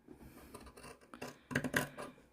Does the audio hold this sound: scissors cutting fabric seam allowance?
yes